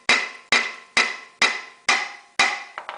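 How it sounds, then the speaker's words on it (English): Metal hammer taps on a clutch slave cylinder in a Chevy Optra, six evenly spaced ringing knocks about half a second apart, close and clear, ending with a couple of lighter quick taps. "Give a few more taps."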